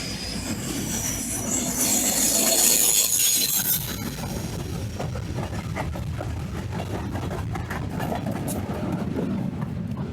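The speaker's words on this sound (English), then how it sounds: "Oh, look, the train is coming." A train rolls past a railroad crossing, loud and close, with wheels squealing and grinding on the rails, swelling early and then settling into a steady rumble with clicking from the cars and no talk.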